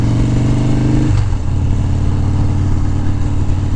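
Motorcycle on a ride in hot weather, a loud close engine drone with a brief dip around a gear change before steady running resumes.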